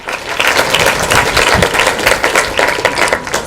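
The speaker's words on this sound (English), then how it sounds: "So please give him a round of applause." Audience applause for a finalist at the Captain's Table 2019 final: steady, dense clapping from a crowd that holds at an even level for a few seconds, close and fairly loud, with no voices over it.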